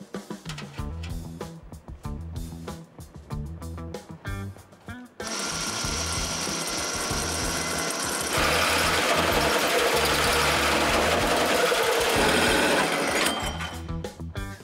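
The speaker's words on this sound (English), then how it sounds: "we're gonna drill some holes" Clattery mechanical noises give way to a drill whining steadily, its pitch rising as it bites into metal while drilling holes in a Camaro road-course car body, then winding down into more clattering.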